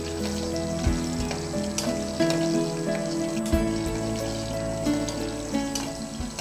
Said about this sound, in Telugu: ఆయిల్ వేడెక్కింది, ఉసిరికాయలు వేస్తున్నాం